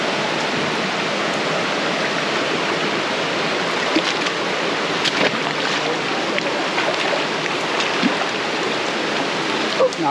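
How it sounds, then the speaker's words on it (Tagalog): Rain falling outdoors near water, a dense, steady hiss with scattered drops and patters, loud and continuous throughout with no talk. "Naulan pa rin."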